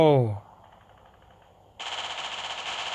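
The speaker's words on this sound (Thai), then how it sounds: "โอ้โหเปิดมาก็ยิงกันละ" Game gunfire from World War Polygon swells into a sustained, fairly distant rattle of automatic fire after a brief tonal sound and a quiet stretch, continuing steadily to the end.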